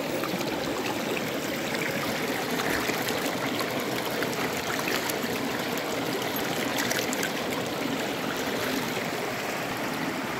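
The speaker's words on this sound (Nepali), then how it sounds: "यो ताप खोला बगिरहेको छ" A Nepali mountain stream, the Tap Khola, flows below a cliff in a steady, continuous rush of water, close and fairly loud throughout with no voices.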